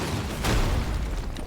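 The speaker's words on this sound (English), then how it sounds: "Lots of explosions." Explosions go off in the video game Deep Rock Galactic: Survivor, a dense, rumbling burst of booming blasts and gunfire that runs continuously and loud through the short stretch, with no one talking.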